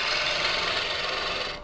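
A roughing gouge cutting spinning wood on a lathe, a steady, close rasping scrape held continuously for under two seconds before easing off at the end.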